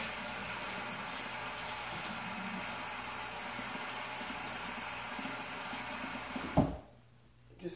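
Water from a tap pours steadily into a bowl of dry beans for soaking, a close, even rush that cuts off abruptly near the end, followed by quiet.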